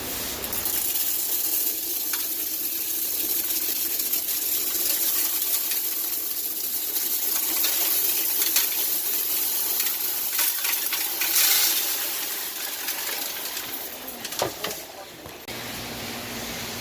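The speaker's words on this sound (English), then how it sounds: "we're using fish water to go ahead and wash this gravel" Steady rushing and splashing water for a long stretch, with gritty rattling as gravel is stirred and rinsed in a bucket.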